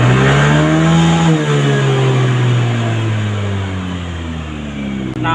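A Yamaha NMAX scooter engine revs hard and steadily, close and loud throughout, its pitch dipping slightly partway through before holding at high speed while the charging current is checked.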